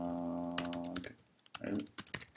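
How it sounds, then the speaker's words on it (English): Quick clicking keystrokes on a computer keyboard come in short irregular bursts, close and fairly quiet, after a steady low hum fades out at the start. "It's like typing when someone's watching."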